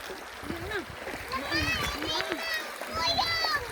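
Splashing water as people wade across a stream, heard alongside excited voices and children talking throughout, with continuous flowing water underneath.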